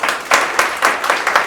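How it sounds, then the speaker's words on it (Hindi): Audience members clap together in a short burst of applause, a steady patter of hands filling the space without any voices. "ये सब प्रोफेशनल के लिए जोरदार ताली बजाइए आप।"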